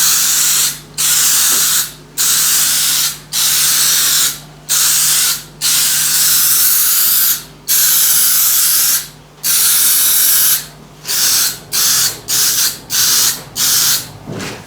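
Automotive acrylic paint sprays from an aerosol can onto a casting pattern for an aluminium plaque, heard as a string of loud, close hissing bursts, longer at first and then shorter and quicker, with brief silent gaps between.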